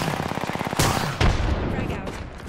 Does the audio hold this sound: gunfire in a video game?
yes